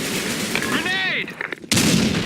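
A grenade blast in a multiplayer shooter on a sandstorm map, with a loud burst of gunfire-like crackle, a whistling sweep, a short drop-out and then a sharp explosion near the end.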